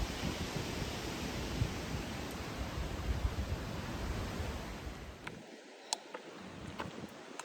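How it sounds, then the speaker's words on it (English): Strong wind blows across an exposed hilltop on a long-distance trail, a broad rushing roar buffeting the microphone. The roar eases near the end, where a few faint clicks come through. "Very windy today."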